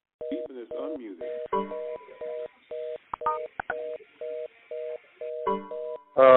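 Conference call phone line beeping in a steady train of short, evenly spaced dual-tone beeps lasting several seconds, with brief irregular bursts of line noise or voices mixed in.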